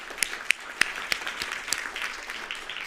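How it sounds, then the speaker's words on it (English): Applause from an audience at a live gut health conference session at VIV Asia, with scattered, sparse claps at moderate distance over a short stretch. "Please join me in giving her a big round of applause."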